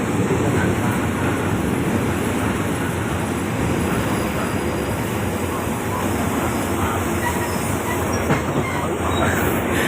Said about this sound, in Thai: 418เข้าสู่สถานีรถไฟบ้านมะค่าครับผม